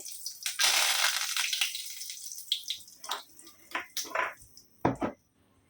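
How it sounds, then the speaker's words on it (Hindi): Curry leaves drop into half a cup of hot oil and burst into a loud hiss, which thins into scattered crackles and pops before cutting off. "आधा कप तेल डाल दिए, करी पत्ता डालेंगे,"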